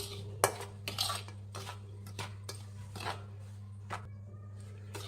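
Flour and salt are dry-mixed in a bowl for bakery-style kodubale dough. A spoon clinks and taps irregularly against the bowl, fairly quiet and close, over a low steady hum, with no talk.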